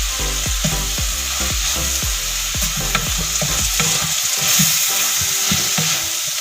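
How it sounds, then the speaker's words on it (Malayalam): Onions and curry leaves sauté in a pan for a chicken curry, with a loud continuous sizzle and a regular rhythm of spatula strokes scraping through the mixture. "സവാള നന്നായി വഴണ്ടി വന്നിട്ടുണ്ട്"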